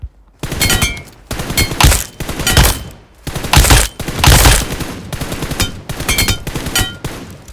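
KNT sniper rifle shots in a mobile shooter game, loud close bursts of gunfire coming in rapid repeated volleys with brief gaps between them.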